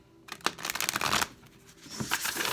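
Tarot deck shuffled up close for a full moon in Leo reading: a loud riffling flutter for about a second, a short pause, then a second, softer burst of cards.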